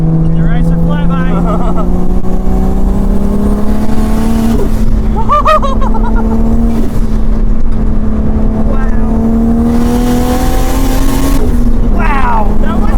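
A turbocharged 1JZ engine in a 1977 Celica Liftback pulls hard from inside the car, a loud, sustained rising drone with gear-change dips and turbo whooshes, and occupants call out over it.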